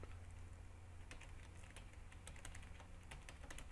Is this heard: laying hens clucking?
no